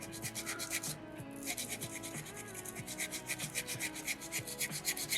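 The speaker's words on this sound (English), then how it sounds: "Constant pressure, constant contact, scrubbing that rock away." Sandpaper rhythmically scrubs soapstone during bear carving, with fast close rasping strokes at a steady back-and-forth pace and no talk heard.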